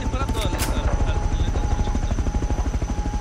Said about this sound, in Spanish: Mira, ya está el helicóptero.